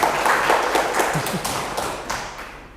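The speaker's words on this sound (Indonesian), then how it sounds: "tepuk tangan untuk kita semua" A group claps hands together during a classroom training session, a busy close patter of many clapping hands that holds steady and then tapers slightly.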